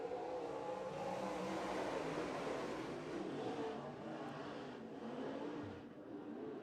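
A small field of five modified race cars idles and rolls toward the starting point at the East Bay WinterNationals, a faint, distant, steady engine drone with gentle swells and no talk over it.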